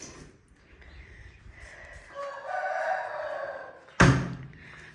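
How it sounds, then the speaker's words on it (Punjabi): A rooster crows at moderate distance in a foggy Punjabi village morning, one drawn-out call, followed by a sharp nearby thud. "ਸਾਡਾ ਮੁਰਗਾ ਵੀ ਹਜ਼ਾਨਾ ਦੇਣ ਲੱਗ ਗਿਆ"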